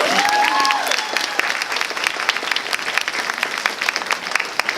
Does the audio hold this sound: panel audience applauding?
yes